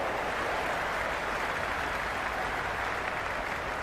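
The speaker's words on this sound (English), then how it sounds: "ever so audible that the crowd is at near bursting point at today's play" Stadium crowd in the Cricket 26 video game during a Big Bash T20 match between Brisbane Heat and Perth Scorchers, a steady, distant roar and applause-like wash that holds evenly without breaks.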